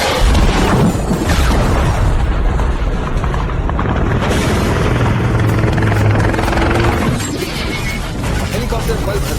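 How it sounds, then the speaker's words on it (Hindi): A helicopter's thudding roar under loud narration, joined by heavy crashing booms and debris noise as a rocket explosion destroys it. "हेलीकॉप्टर पल भर में राख में बदल गया"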